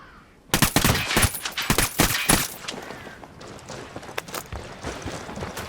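Rapid automatic gunfire bursts loudly in Tom Clancy's Ghost Recon Wildlands, a dense volley of close shots that stops abruptly and gives way to quieter game ambience.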